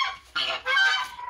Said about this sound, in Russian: Вот, покажу вам гусей.